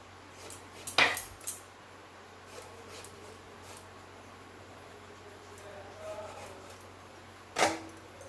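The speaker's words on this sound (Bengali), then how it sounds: "বেগুনটা কেটে নিচ্ছি।" Kitchen knife slicing through eggplant on a board for frying, a few sharp crisp cuts and clicks with quiet pauses between them, near and fairly faint.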